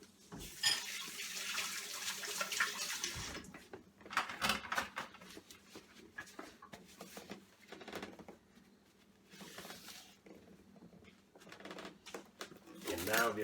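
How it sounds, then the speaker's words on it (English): Tap water runs into a sink for a few seconds at the start, then comes back in shorter bursts as hands are washed, with patters and splashes, close by in a home kitchen. "I'm going to wash my hands now."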